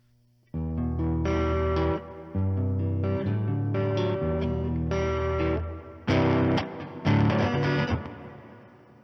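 Electric guitar chords ring out through a shimmering EHX Harmonic Percolator effect pedal, with sustained notes, a pause, then sharper strummed bursts that fade.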